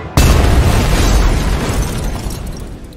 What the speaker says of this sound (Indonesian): mobil itu tiba-tiba meledak.